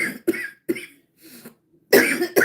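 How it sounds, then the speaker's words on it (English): A person coughs repeatedly at close range in a live stream, several separate harsh bursts with short gaps and a louder double cough at the end. "That's my first time that I coughed."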